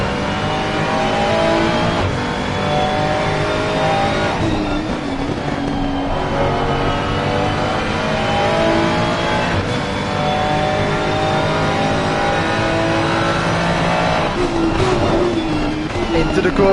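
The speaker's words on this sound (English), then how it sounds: "Onboard there with Dylan Stahl looking back at Tim Venting here on this Ferrari 296 GT3." A Ferrari 296 GT3 race car engine in a sim racing game at Laguna Seca, a loud sustained high-revving drone with shifting pitch through gear changes, heard under a race commentator's voice.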